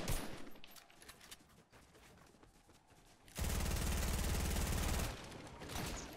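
Gunfire and a rocket launcher in the Fortnite video game, a dense stretch of rapid shots and blasts, then a sustained loud roaring barrage that cuts off, with more gunfire trailing behind.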